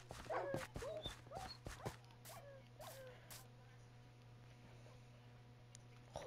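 A dog in Minecraft yips and whimpers in a quick run of short, sharp cries, loudest in the first two seconds, then thins to a few faint whines over low background hum.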